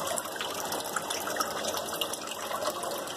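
Home aquarium filter returning water to the tank, a steady, close splashing and gushing flow of running water with no pauses.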